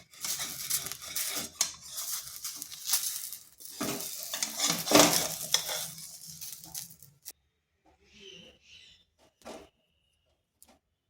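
A spatula scraping and stirring rice flour dough for chakli pitha in a hot pan, with busy clattering metal scrapes and a sizzling hiss for about seven seconds, then a few faint, sparse scrapes.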